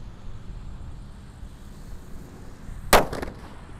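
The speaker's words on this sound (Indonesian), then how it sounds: "Selanjutnya kita akan menyalakan mercon Sunflower. Ini ukurannya kecil tapi meledosnya banter ya." A small Sunflower firecracker goes off with a single sharp, loud bang near the end, preceded by a low outdoor background rumble and followed by a brief fading echo.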